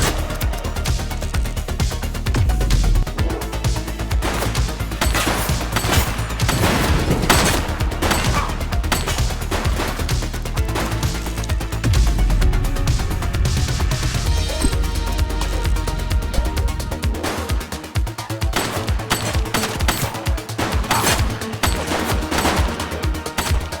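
Gunfire in the police video game The Precinct: sustained, loud bursts of rapid automatic shots and a fusillade of overlapping reports, nearly continuous with only brief lulls.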